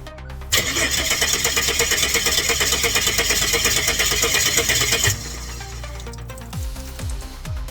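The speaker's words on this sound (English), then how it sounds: "it's turning over" Ford AU Falcon ute engine cranking and turning over without catching, a loud, steady rhythmic starter churn for about five seconds that cuts off, followed by quieter mechanical clicks and knocks close by.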